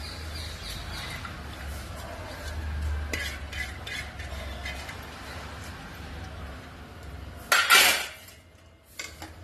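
Metal utensils scrape and clink while stirring rice in a pot of boiling water for masale bhat, with steady background noise, ending in a brief louder rattle of stirring.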